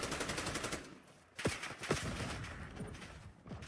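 Video game gunfire crackles through a hardpoint match, with a rapid run of automatic shots followed by scattered louder bursts, moderately loud and mixed with game sounds.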